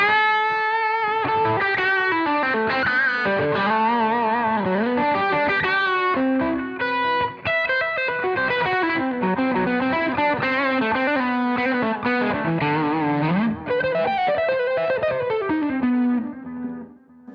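An electric G&L guitar plays a sustained, singing lead through a JAM Custom Shop multi-pedal with a light analog delay, notes ringing into one another continuously with a smooth, slightly driven tone and no talking.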